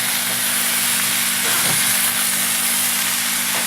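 Potatoes and peppers are stirred with oregano, parsley and basil in a pan, giving a steady close hiss and sizzle with faint scraping through the short stretch and no voices.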